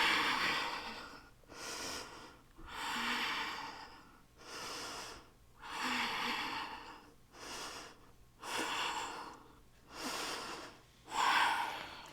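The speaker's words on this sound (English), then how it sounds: "Let's take 5 slow breaths." Slow, deep breathing during an advanced yoga flow, with about six or seven even inhale-exhale cycles that rise and fall steadily and sit close to the listener, with no talking.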